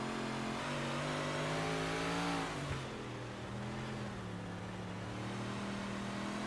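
Big block dirt modified race car engines in iRacing, a video game, drone steadily at high revs, then the pitch drops as one car passes close by, and the engine noise carries on alone.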